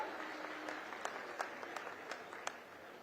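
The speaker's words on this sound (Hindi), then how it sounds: "एक बार सब मंचस्थ अतिथियों के लिए जोरदार ताली बजा के स्वागत कर दो।" Audience at a farmers' government event applauding guests on stage, a continuous spread of clapping with scattered louder individual claps standing out, moderately distant.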